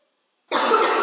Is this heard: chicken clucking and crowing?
no